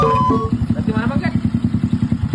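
A motorcycle engine idling, probably a small bike that is being offered for sale, with a steady rapid low pulsing throughout and people talking over it.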